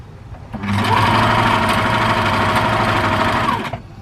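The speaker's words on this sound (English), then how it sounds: "let's go back where we started and sew all the way down." A sewing machine runs steadily for about three seconds, stitching down a row of quilt-as-you-go blocks with a loud, even mechanical whir that starts and stops cleanly, no voices.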